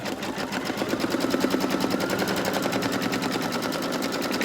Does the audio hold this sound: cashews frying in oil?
no